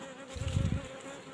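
Honey bees flying produce a faint, steady buzzing hum that swells briefly in the middle of the short moment, with no voices.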